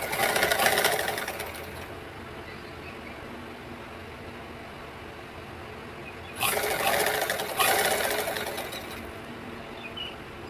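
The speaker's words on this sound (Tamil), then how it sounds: "நெக்கை சுற்றி அப்படியே நம்ம தையல் போட்டு எடுத்துக்கலாம்" Sewing machine stitching around the neck lining of a blouse, in a loud opening burst and two more bursts later on, with a low steady background hum between them.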